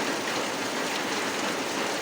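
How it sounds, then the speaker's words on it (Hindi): Rain falls outside in a dense, even hiss that stays constant across the short stretch, with no talking and no other sounds standing out. "It's raining outside."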